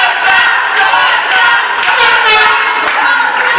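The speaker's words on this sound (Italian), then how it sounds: "Il tifo degli spalti si alza sempre più forte." A crowd of fans in the stands at a five-a-side match, Dream Five against ASD Solarity, roars and chants continuously, loud and close, with rising shouts throughout.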